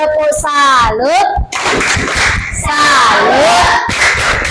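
Schoolchildren shout a tepuk salut clapping chant together in a classroom, a loud group of young voices with rhythmic calls and a few claps, continuous across the whole moment.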